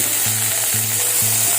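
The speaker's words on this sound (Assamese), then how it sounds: "এনেদৰে পাতকেইটা মই ভাজি আছোঁ" Roselle (tenga) leaves frying in oil with panch phoron, a steady close sizzle filling the whole stretch, with a low tone pulsing underneath three times.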